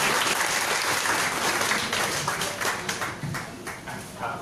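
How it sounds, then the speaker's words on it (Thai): Audience applause at a Thai constitutional law seminar as the final speaker is introduced: a dense, sustained wash of clapping from a crowd, fairly close, gradually thinning toward the end. "ช่วยปรบมือให้อาจารย์ปูนเทพนะครับ"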